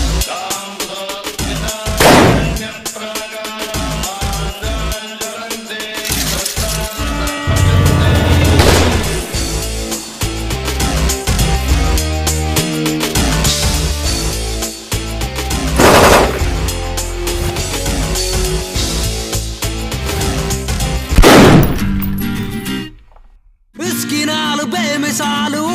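Sustained automatic gunfire and single shots in an action movie trailer, loud and dense throughout with brief pauses, layered over a continuous score and effects, ending in a short silence before the barrage resumes.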